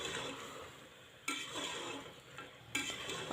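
Mutton sizzling in oil in a pan for a spicy khada masala, a soft steady frying hiss broken by two louder scraping stirs, close but quiet with no voices.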